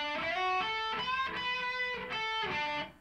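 A guitar riff in the style of a song, a short run of picked and bent notes with a brief melodic phrase, played alone and cleanly up close.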